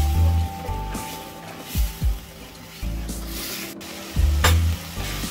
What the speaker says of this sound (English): fry the tomato puree until it reduces and it releases its own oil